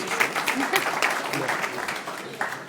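An audience at an evening auction event gives a round of applause, a steady wash of clapping that holds throughout and eases slightly toward the end.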